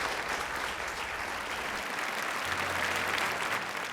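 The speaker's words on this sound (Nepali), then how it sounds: "म चाहिँ उठेर ताली बजाउन चाहन्छु" Audience applause on a televised singing competition stage, a dense continuous wash of clapping that holds steady throughout with no break.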